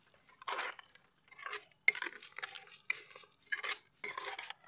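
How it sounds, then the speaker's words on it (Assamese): A spoon stirs thick khichdi in a pot, with six or seven separate scraping, squelching strokes and a sharp clink against the metal, close and fairly quiet, in near silence between the strokes. "তো এতিয়া মই খিচিৰিখিনি ধুনীয়াকৈ লৰাই ল'ম।"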